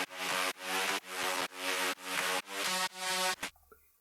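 A synth melody processed through Camel Crusher distortion, Fruity Flanger and LFO Tool pulses in eight even, pumping chopped notes, each swelling and cutting off, then stops with a short fading tail, loud and alone.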